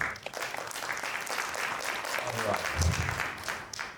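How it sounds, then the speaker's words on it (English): A round of applause from the audience at a film screening event in London, a continuous, fairly quiet dense patter of many hands that carries on for the whole stretch. "So we need another round of applause."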